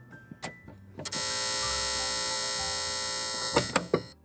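A vintage Apple ImageWriter II printer, powered on after decades and jammed, gives a few short clicks, then a loud steady electric whine that holds for about two and a half seconds before cutting off into further clunks.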